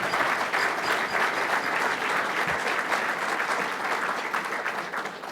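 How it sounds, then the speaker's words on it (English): A room full of people at a Chicago Fraternal Order of Police lodge gathering breaks into a round of applause, producing sustained, dense clapping at an even level that tapers slightly at the end. "That is worth a round of applause."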